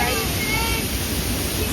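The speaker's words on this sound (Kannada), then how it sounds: "ಇದು ಫಾಲ್ಸ್ ನೀರು" Waterfall water rushing near Honnavara, a steady broadband roar filling the whole clip at close range with no gaps.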